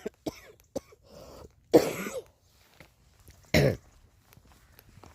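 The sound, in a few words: coughing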